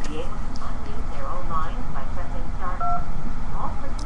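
Conference phone keypad tones beeping in short bursts, with a pair of tones standing out near the end, over a busy room with people talking and murmuring.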